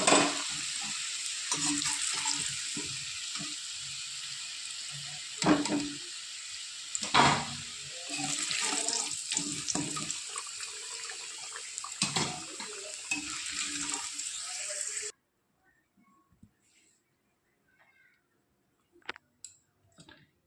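Potatoes fry in hot oil for a Bengali chicken curry, giving a close sizzle with stirring scrapes that run for about fifteen seconds before the pan falls almost silent, leaving a few faint clicks.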